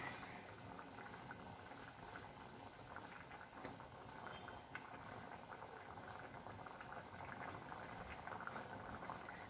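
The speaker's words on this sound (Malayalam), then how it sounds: "അപ്പോൾ നമ്മുടെ കറി തിളച്ചു വരുന്നുണ്ട്." Plantain tamarind curry boiling in a clay pot, a soft continuous bubbling and popping that stays faint and even throughout with no voices.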